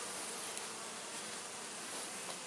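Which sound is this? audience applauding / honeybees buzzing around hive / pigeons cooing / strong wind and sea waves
honeybees buzzing around hive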